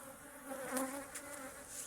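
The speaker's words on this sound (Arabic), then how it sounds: "نحل بغا يسلم معكم." Bees buzzing at an apiary, a steady droning hum from the swarm with brief closer passes, fairly faint and with no voices.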